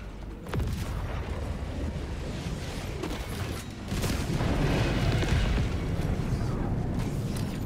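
Air strike explosions in a video game, heard as heavy rumbling booms that swell and grow louder partway through over a constant dense roar, with no talking.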